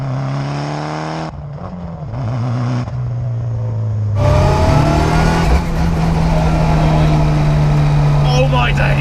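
Mitsubishi Evo 6 rally car with anti-lag, 3 bar of boost and a sequential gearbox, heard from inside: a loud engine note revs up, drops away at the gear changes, then climbs again and holds a hard, steady pull, with people talking over it.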